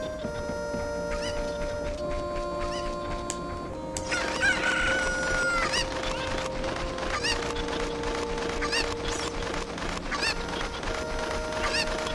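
Cucco chickens in the Zelda Ocarina of Time video game crow and cluck repeatedly over a looping game soundtrack. Several loud crows overlap in a busy, rhythmic chorus with no talking.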